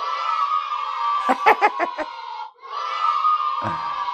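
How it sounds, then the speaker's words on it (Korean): A crowd of students shouts and cheers in a loud, sustained roar, with a burst of pulsing yells partway through and a brief drop before the cheering swells again. "수능 때 이렇게 소리를 지르게 된다."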